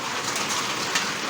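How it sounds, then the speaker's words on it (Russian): Heavy hail pelting surfaces in a village during a summer storm, a dense, steady hiss-like clatter at close range throughout, with no voices. "Какой град страшный."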